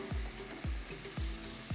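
Yogurt sizzling in hot oil in a pan while being stirred for nihari over low heat, a constant frying hiss broken by four regular scraping strokes of the spoon, close and clear with no talking.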